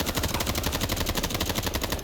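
Rapid automatic gunfire from the Roblox game Zombie Survivors, a fast steady burst of close, loud shots emptying a magazine without pause.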